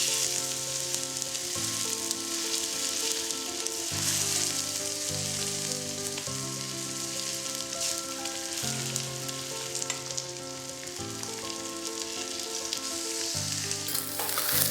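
Chicken wings frying in browned, caramelized sugar in a pan, a steady close sizzle running throughout under a layer of background music.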